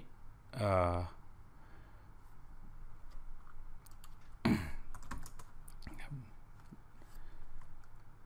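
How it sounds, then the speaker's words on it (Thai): Keystrokes from typing a package search command on a computer keyboard in a Red Hat Linux terminal, a handful of faint clicks scattered through a quiet room, with a louder burst of clatter near the start. "เราก็พิมพ์คำสั่งนี้ลงไปนะครับ"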